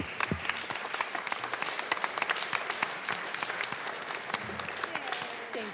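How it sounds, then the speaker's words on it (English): Applause in the Colorado House chamber for honored railroad workers, a steady room full of hands clapping with distinct sharp claps standing out, continuous across the clip. "please give them another big round of applause."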